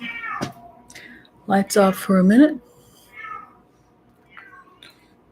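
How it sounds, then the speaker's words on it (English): A pet cat meows loudly up close, a drawn-out series of cries alongside a woman's speech. "My cat wants to play."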